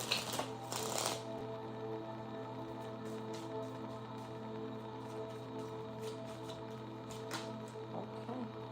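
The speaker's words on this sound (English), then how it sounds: "Get a good shuffle in." Tarot cards are shuffled in quick riffling bursts, then soft scattered flicks and taps over a steady low background hum; no talking.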